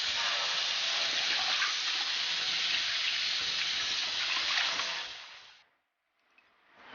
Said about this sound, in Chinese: 先把鸡翅洗干净